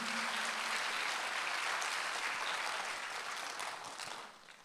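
A church congregation claps during a Sunday worship service, an even, sustained wash of clapping that holds steady and then gradually tapers off near the end.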